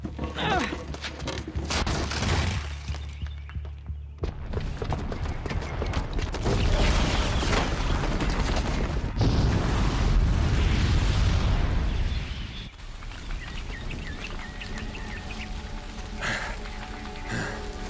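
A booby-trapped bomb detonating in Horizon Zero Dawn brings a long, heavy roar of explosion and falling debris that swells, rumbles for several seconds, then eases into a lower crackling tail.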